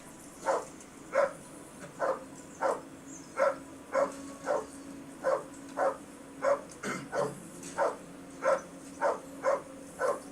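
A dog barks in the video game Kingdom Come: Deliverance, a steady run of about fifteen evenly spaced single barks, moderately loud against a faint background.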